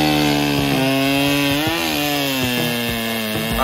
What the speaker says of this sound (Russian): Пилить будем здесь.